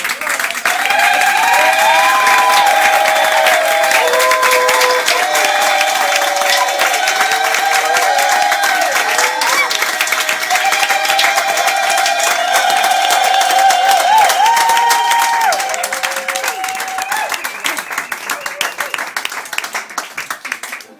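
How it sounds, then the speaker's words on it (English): An audience at a book release celebration bursts into sustained, loud applause with some cheering, continuing for about twenty seconds before thinning slightly at the end. "How about we all give a real applause?"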